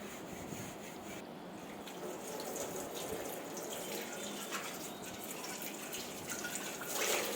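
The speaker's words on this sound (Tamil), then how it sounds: "எல்லா பாத்திரத்தையும் நல்லா வாஷ் பண்ணி எடுத்தாச்சு." Running water pours steadily over clay pots being washed for seasoning, a continuous close splashing and trickling with faint clinks as the pots are handled.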